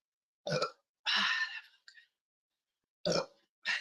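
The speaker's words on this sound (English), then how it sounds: "I have to burp." A few quiet, close burps come in short separate bursts with silence between them, the second one longer and more drawn out.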